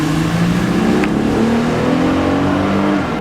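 A Honda Ridgeline RTL 4WD pickup truck engine accelerates loudly and close, its drone climbing steadily with a crisp gear shift partway through.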